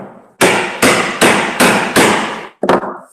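A hammer drives a chisel into wood in five loud, evenly spaced strikes, each a sharp crack with a short decay, followed by a brief pause and a quick double blow; close and alone, with no talking.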